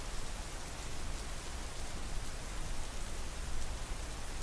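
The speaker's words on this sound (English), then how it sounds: "But with how hard it's raining, I imagine even this will only do so much" Heavy rain pours down in a steady, dense hiss that stays even throughout, without pauses or distinct drops, at a soft, moderate level with no voices.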